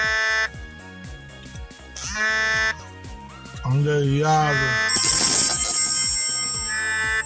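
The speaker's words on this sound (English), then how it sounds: "his phone starts loudly ringing" A loud electronic ringtone plays over background music, with a voice breaking in and a high beeping tone later on.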